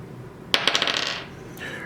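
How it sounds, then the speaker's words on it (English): A die rolled for the Roger's Rangers board game, clattering with a sharp first hit, a quick series of diminishing bounces and a faint final tick, close and alone. "Roll a dice."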